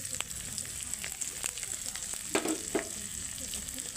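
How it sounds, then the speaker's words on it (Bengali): Whole cumin seeds sizzling in hot mustard oil in a pan of egg tadka, a steady close hiss of frying with faint crackles and a few light stirring clinks. "সরষে তেল দেওয়ার পরে 1 চামচ গোটা জিরা,"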